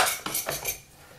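A spoon clinks against cutlery and dishes in a kitchen while coffee is being prepared, giving a few quick metallic clatters close by that fade into quiet.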